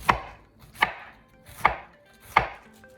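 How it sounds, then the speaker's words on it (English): A knife thinly slices cabbage on a cutting board, giving four crisp, evenly spaced chops about three-quarters of a second apart, close and distinct with quiet gaps between them. "And then we will thinly slice the cabbage."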